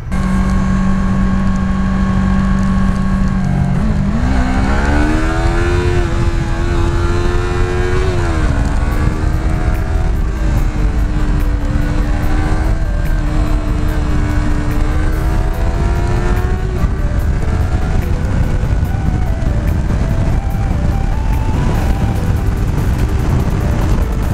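A Yamaha R3 300 motorcycle engine revs hard while riding, climbing through the rev range toward the 12,000 rpm redline with rising pitch, shifting gears and pulling again, loud and continuous with wind rush.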